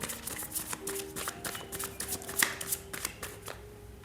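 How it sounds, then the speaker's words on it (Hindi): A deck of tarot cards is shuffled and drawn by hand, giving rapid close riffling and flicking bursts with soft card taps in between, and a faint hum sits underneath. "ओके चलिए कुछ कार्ड्स और ले लेते हैं।"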